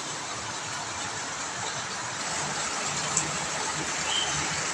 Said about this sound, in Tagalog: Malakas po ulan habang nagkakape.